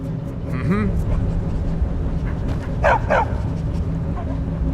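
A dog in the Skyrim video game gives two short, sharp barks a couple of seconds apart, close and clear over a steady low background hum, with some voice-like sound in the mix.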